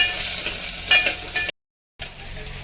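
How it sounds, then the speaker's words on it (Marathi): Onion frying in hot oil while cooking chicken biryani: a steady broadband sizzle with stirring scrapes, cut by a half-second dropout before the crackle resumes. "याच्यात आपण आता एक कांदा टाकूया आणि याला फ्राय करून घ्यायचं मस्त"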